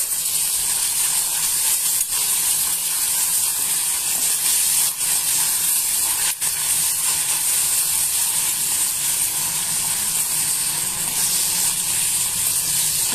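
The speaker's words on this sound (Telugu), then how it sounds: "ఉల్లిపాయ ముక్కల్ని, పచ్చిమిరపకాయ ముక్కల్ని బాగా వేయించుకోవాలి." Onion and green chilli pieces frying in a pan over medium-low heat, a loud, steady sizzle and hiss throughout with no speech.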